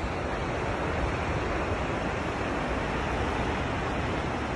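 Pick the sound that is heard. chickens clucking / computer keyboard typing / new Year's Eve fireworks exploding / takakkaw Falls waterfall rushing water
takakkaw Falls waterfall rushing water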